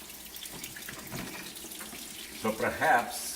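Water running and draining through a pipe in a building being shut down, a steady gushing flow that swells louder near the end, with someone speaking briefly over it.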